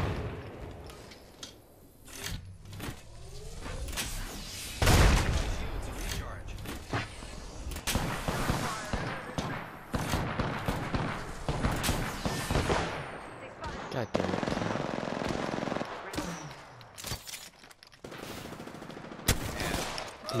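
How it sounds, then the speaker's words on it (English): Enemy gunfire in the battle royale game Apex Legends, with repeated bursts of automatic shots and single cracks scattered across the scene, loud and close, under and between bits of player chatter. "The enemies are shooting at me."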